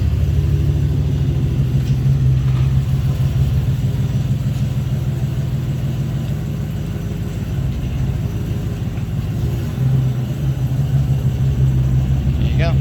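A turbocharged 2020 Ford F-150 pickup running without a muffler gives a steady, loud, low engine rumble throughout, with people talking over it.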